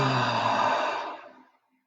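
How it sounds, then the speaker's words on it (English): A long, voiced exhalation from a breathing exercise fades steadily into silence, close and alone. "Let's do another vocal breath."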